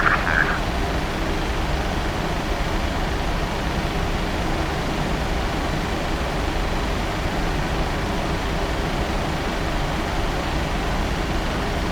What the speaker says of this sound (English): We are clear for takeoff.